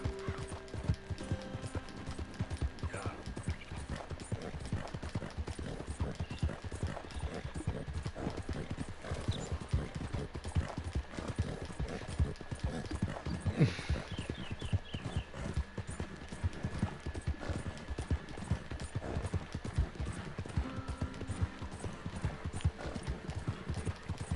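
Horse hooves clip-clop in a continuous rapid rhythm throughout Red Dead Redemption 2, a steady ride with a brief whinny midway, moderately loud and unbroken.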